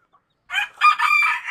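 Chickens crow and cluck close by in a short burst, a couple of harsh rising calls following a brief quiet start, while the birds are being given a purging treatment.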